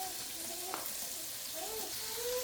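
Vegetables for lumpiang togue are sautéed in a pan, a steady broadband sizzle fills the short stretch with a few faint tonal squeaks and one soft knock, close and even in level, no talk.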